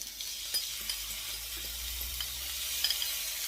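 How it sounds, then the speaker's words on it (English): Onions, chilies and spring onion frying in a tad of oil in a pan, a faint steady sizzle with a few light stirring clicks and scrapes, no talk. "I'm going to throw in my onions, chilies, and spring onion."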